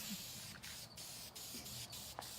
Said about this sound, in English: it's falling off as I spray it.